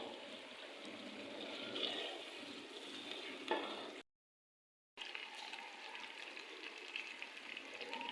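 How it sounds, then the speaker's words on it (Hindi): Keema karela masala of minced meat and bitter gourd frying in a pan while being stirred, a soft steady sizzle with faint scraping, close and quiet, cut by a second of silence. "अब हम करेंगे इसकी अच्छे से भुनाई।"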